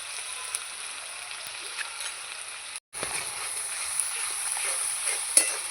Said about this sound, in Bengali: মশলাটাকে ভালো করে আমি কষাবো